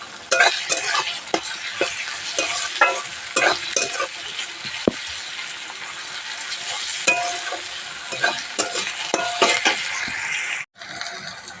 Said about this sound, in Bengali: পেঁয়াজের সাথে আদা রসুনটাও একটু ভাজা ভাজা করে নেব।